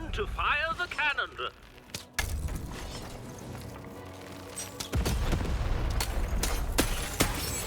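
A cannon fires in the video game Lost in Random, with a sharp boom, a long rumbling tail and a second heavy blast, mixed with game effects and a voice talking over it.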